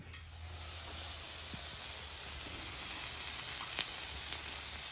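Steady, hissing sizzle of chopped cheese sandwich ingredients and onion cooking on a hot Blackstone griddle, continuous and fairly close, with a faint clink or scrape now and then.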